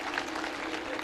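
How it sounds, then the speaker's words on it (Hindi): Audience applause at a Sahu community social gathering and festival in India, a dense, steady wash of clapping that stays loud and even throughout the short moment. "अधिकांश जोरदार तालियां एक बार।"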